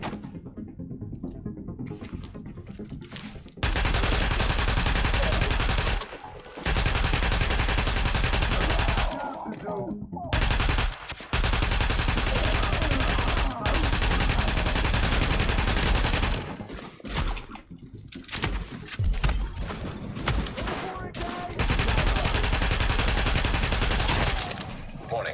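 Sustained automatic gunfire in The Division roars in long, loud bursts separated by short pauses, with a sparse voice heard during the quieter gaps.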